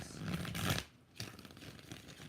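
Tarot cards are shuffled by hand, first in a dense riffling burst, then after a short pause a softer second round of flicking, close and quiet.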